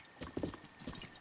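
A horse's hooves clip-clop in quick, uneven beats in The Legend of Zelda: Breath of the Wild video game, faint and close over quiet background ambience.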